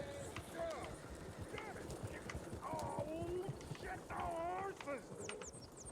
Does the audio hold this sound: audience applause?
no